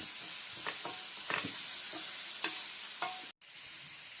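Chili flakes fry in hot oil in a pan, a steady sizzle broken by several scraping stirs of a spoon, close and loud, with a brief dropout near the end.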